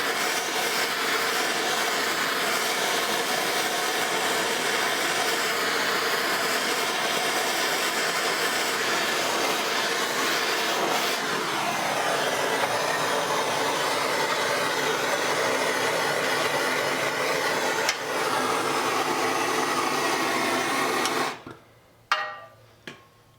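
A small torch roars with a steady, loud hiss while heating saw blade steel for a knife, holding constant for about twenty seconds before cutting off abruptly into quiet.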